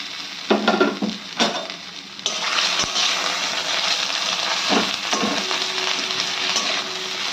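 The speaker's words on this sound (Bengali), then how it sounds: "আর ভালো করে বাটাটাকে কড়াইতে নাড়িয়ে নিতে হবে।" Shrimp and pumpkin leaf paste is stirred in a wok of hot oil with dried red chilies, a loud, steady sizzle punctuated by a few knocks of the spoon against the pan.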